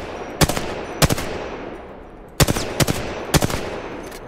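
Gunfire from an R-301 rifle in the video game Apex Legends comes as loud, close, sharp single shots and short bursts, about six or seven cracks spread unevenly over a few seconds above a steady game background.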